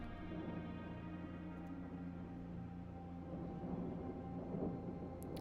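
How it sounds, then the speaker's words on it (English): Thunder in the video game Blue Prince rumbles low and continuously, a steady dull roll with faint rain-like texture layered over a sustained ambient game tone, with no talking. "There's definitely some thunder going on."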